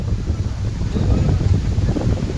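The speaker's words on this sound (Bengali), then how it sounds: "পেছনে বিশাল রূপনারায়ণ নদী আর প্রচুর হাওয়া" Strong wind beside the wide Rupnarayan river at Gadiara, a loud continuous low buffeting roar battering the microphone with no talking.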